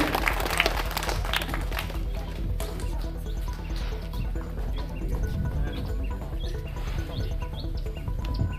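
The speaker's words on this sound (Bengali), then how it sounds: "সবাই হাততালি দিয়ে উৎসাহ প্রদান করেন।" An audience claps loudly and continuously at a prize distribution ceremony, a dense crackle of many hands that holds steady throughout.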